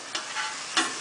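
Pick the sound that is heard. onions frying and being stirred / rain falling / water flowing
onions frying and being stirred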